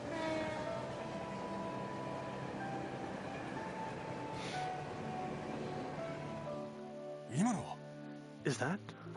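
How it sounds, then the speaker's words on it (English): A night train passes in the Trails From Zero video game as a steady, continuous rumble, with a few sharp swooping tonal sweeps near the end. Speech is heard faintly underneath. "The last train bound for Calvert? Yes, I believe it was."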